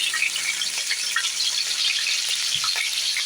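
Ginger garlic paste frying in hot oil with onions, a steady broadband sizzle with faint stirring scrapes, close and continuous without pause.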